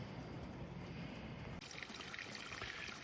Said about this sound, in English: That water moving that fast, it's good because stuff will just blow right through.